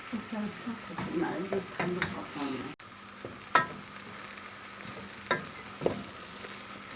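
Flour halva roasting in a pan and stirred constantly, a steady dry sizzle with repeated scraping strokes and occasional sharp knocks of the spoon, while a voice talks over it.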